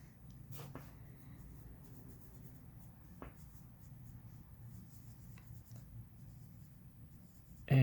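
An ink brush scribbles on paper, the strokes quiet and soft, with a steady low room hum beneath and a louder bump at the very end.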